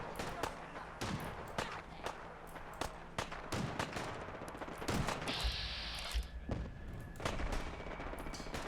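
Gunfire in Fallout 4 crackles repeatedly, sharp shots in irregular bursts of varying distance, with a sustained rattling stretch like automatic fire midway and someone talking over part of it.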